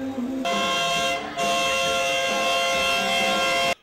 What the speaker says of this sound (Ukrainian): Вони символічно підтримують протестувальників сигналами клаксонів.